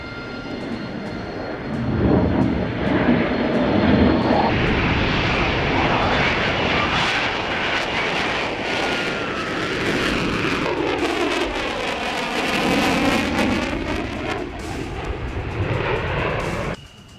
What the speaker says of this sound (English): As the F-35 approaches the base, the landing gear is deployed, and the aircraft lines up with the runway.